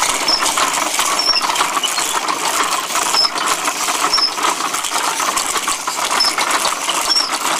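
A handmade wooden machine turned by hand, its wooden mechanism giving a steady stream of ratcheting, clicking rattles with faint squeaks, continuous and fairly loud throughout, with no talking.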